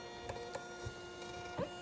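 A Dymo label printer printing shipping labels whirs faintly with a few soft clicks and mechanical ticks over a quiet room background.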